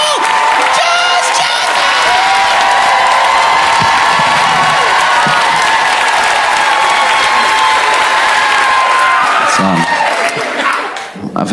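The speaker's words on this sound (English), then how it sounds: "Put your hands together. Start clapping right now" A comedy-show audience claps and cheers for a comedian, producing loud, sustained applause with whoops and shouts that fills the room and tapers off at the end.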